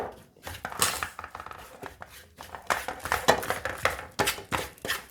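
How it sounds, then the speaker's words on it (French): Spoon clinking and scraping against a bowl while stirring a maple syrup mixture, a busy run of close, bright clatters and taps with no talking. "on va mélanger bien avec ce sirop d'érable là"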